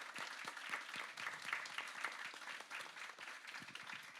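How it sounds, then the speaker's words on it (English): An audience claps at a trans talk memorial event, a fairly faint, distant-sounding round of applause with individual claps audible in a busy, steady patter that holds evenly for about four seconds. "one more round of applause"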